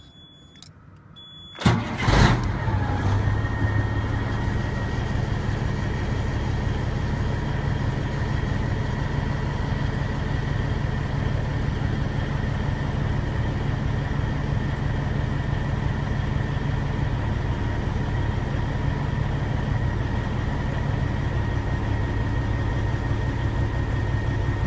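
A truck's Caterpillar 3406B diesel engine cranks briefly, catches with a sharp burst, then settles into a steady, even idle that drones on for over twenty seconds with no talk.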